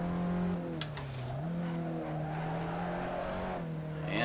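Race car engine droning steadily in a multiplayer racing video game, a loud constant tone with slight pitch dips as it shifts, and a few brief clicks and tire noises near the start and end.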